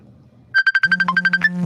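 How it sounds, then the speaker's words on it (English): A phone's ringtone for an incoming call plays up close and loud: a quick run of about a dozen pulsing electronic notes over a steady low tone. "I'm getting a phone call"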